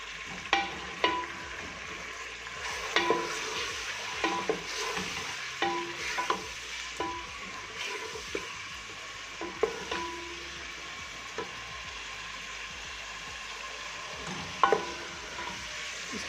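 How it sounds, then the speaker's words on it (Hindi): Beef fries with ginger garlic paste in hot oil for a beef haleem, a steady sizzle broken by repeated scraping stirs and occasional spoon knocks, close and fairly quiet. "इसको भूनेंगे इसी ऑयल में अच्छी तरह। और 2 टेबलस्पून अदरक लहसुन का पेस्ट ये भी साथ डाल के भून लूँगी।"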